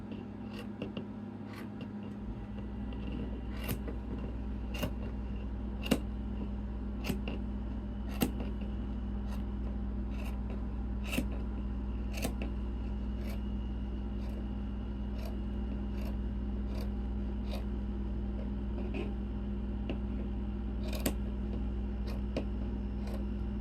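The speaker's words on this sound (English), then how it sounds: "I'm going to take my scissors and just start trimming" Scissors snip steadily through fabric while trimming a witch wreath kit, with repeated crisp cuts in an irregular rhythm, close and clear over a constant low background hum.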